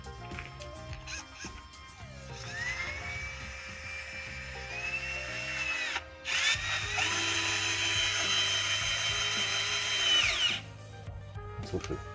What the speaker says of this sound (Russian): Давай попробуем снять патрон и закрутить саморез с помощью встроенного механизма, да, удержания биты.